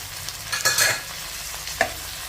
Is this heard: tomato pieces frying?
yes